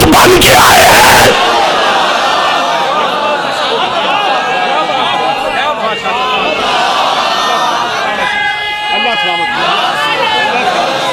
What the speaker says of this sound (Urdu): آپ کے بے ربط نعرے ہو گئے